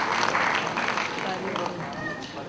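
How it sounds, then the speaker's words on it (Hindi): Audience at a Dena Bank platinum jubilee celebration in the Thane region claps steadily, a dense sustained wash of applause with voices mixed underneath. "तालियां"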